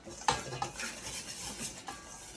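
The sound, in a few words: whisking dry ingredients for fried chicken in a bowl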